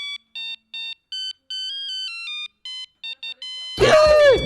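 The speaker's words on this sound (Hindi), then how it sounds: "किस वक्त किसका फोन है?" Electronic phone ringtone plays as a sequence of short, clean beeping tones in a rapid melodic pattern, fairly loud and close, in a quiet room at night before a person begins talking over it.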